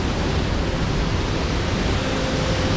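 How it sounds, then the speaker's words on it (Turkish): A waterfall at the end of a canyon roars as a loud, constant wash of falling water that fills the space without letup, with no voices. "Hemen şelaleye varıyorsunuz."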